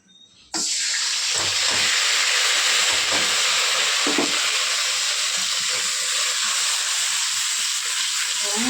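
Spice paste of turmeric, coriander, green chilli, onion, ginger and garlic hits hot oil for a hilsa fish curry, bursting into a loud, sustained hiss that begins abruptly and holds steady with faint bubbling pops.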